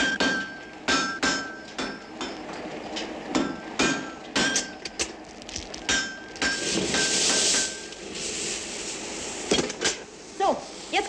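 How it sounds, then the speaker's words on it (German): A village blacksmith hammers metal in a 1950s setting, a rapid series of sharp ringing blows in uneven bursts, close and fairly loud, with a voice speaking between them. "Sag mal, musst du ausgerechnet am Sonntag hämmern?"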